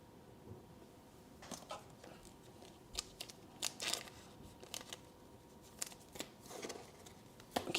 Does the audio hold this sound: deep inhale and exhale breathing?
no